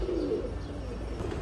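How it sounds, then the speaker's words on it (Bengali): A male pigeon of a fancy breed coos softly and briefly, faint against a steady background hiss. "একটা নর কবুতর"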